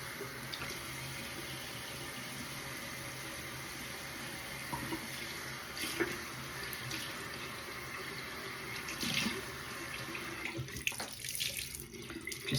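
Cold water runs steadily from a bathroom tap into a sink, a continuous close splashing hiss with a few brief knocks and clatters near the end.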